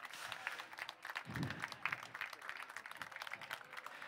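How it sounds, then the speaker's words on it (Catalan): Applause from an audience at a healthy-cooking demonstration, honoring volunteers: a steady, moderately distant wash of many hands clapping throughout, fairly soft with no clear individual claps standing out. "Un aplaudiment molt, molt gran per a aquesta gent que avui fa de voluntària."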